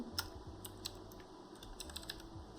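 Continuous typing on a computer keyboard during a VFX compositing session, with rapid, close clicking keystrokes at an uneven rhythm and no speech.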